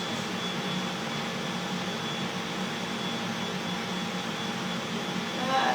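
A kitchen robot food processor runs with water inside, giving a steady, even mechanical hum and whir at moderate level for several seconds, with a slight rise at the very end.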